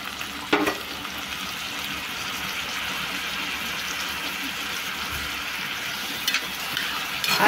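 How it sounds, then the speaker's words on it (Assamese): Potato, tomato and spices fry together in a pan with a steady, dense sizzle, and a couple of sharp stirring clatters stand out over the constant crackle. "আলু বিলাহী আৰু সকলো মছলা একেলগতে দি দিলোঁ এতিয়া এইটো অকণমান ভজা হোৱালৈকে"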